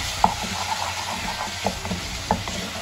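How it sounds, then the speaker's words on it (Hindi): A spatula stirs chopped tomatoes into okra in a frying pan, with soft sizzling and several sharp scraping clicks against the pan at uneven intervals, close and moderately loud. "टमाटर ऐड करके हमने इसको मिक्स किया है"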